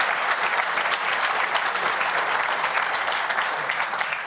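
Audience at a conference talk claps in a dense, sustained burst of applause, steady and fairly close for several seconds, with no voices over it.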